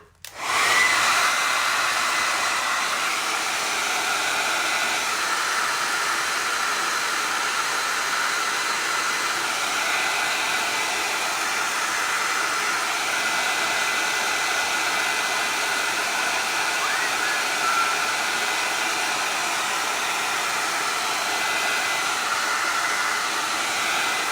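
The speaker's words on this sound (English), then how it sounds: "give me 30 seconds just to hit this with a blow dryer real quick" A blow dryer runs on high for the whole stretch, a loud, steady close-up hiss and whoosh with no pauses, used in glass and resin flower art work.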